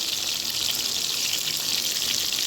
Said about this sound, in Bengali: ইলিশ মাছটাকে আমি ভেজে নিচ্ছি